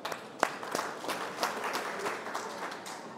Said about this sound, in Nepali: हाम्रो पास्टर अगुवाजीहरूलाई एउटा ताली बजाइदिउँ